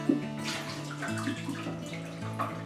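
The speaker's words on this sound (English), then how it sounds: "into my jug I'm going to put in a litre very hot water, just off the boil." A litre of very hot water, just off the boil, poured into a jug for brewing a Bavarian lager homebrew kit. A steady, close splashing gush runs throughout with no talking.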